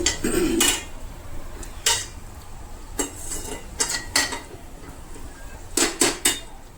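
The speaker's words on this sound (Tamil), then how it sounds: "இதை நல்லா கலக்கிட்டு" A utensil stirs fish curry ingredients in a pot, making sharp metallic clinks and scrapes in irregular bursts, about eight distinct knocks against a quiet background.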